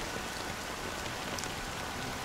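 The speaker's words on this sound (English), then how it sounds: "it's still raining." Rain falls steadily in the Honkai: Star Rail video game, a soft, even hiss of drops on surfaces. It is faint and unbroken, with no voices.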